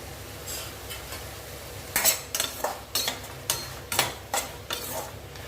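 Brinjal and other vegetables are sautéed and stirred in a pan, a steady sizzle running under a series of sharp scraping and clinking strokes from the spoon, close and fairly regular.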